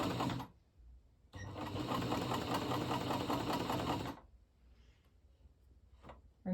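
A Janome/New Home Model 702 sewing machine runs at speed in a single burst of rapid, even stitching lasting a few seconds, close and clear, then stops, followed by faint handling noises.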